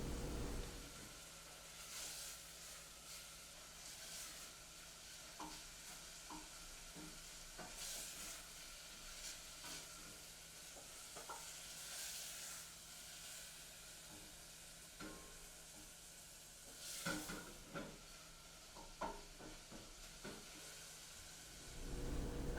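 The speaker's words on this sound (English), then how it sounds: "just breaking up this sausage and getting it browned up" Crumbled sausage browns in a pan with a steady low sizzle and hiss, broken by scattered scraping stir strokes and utensil taps, all close and fairly quiet with no voices.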